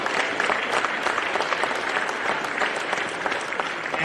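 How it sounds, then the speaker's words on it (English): Loud, dense crowd applause fills a wheelchair AFL grand final day venue, steady and close throughout with no break. "So a round of applause"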